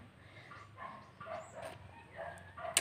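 A tired pet dog gives soft whimpers and a short yip, faint and close, with quiet background noise between the sounds.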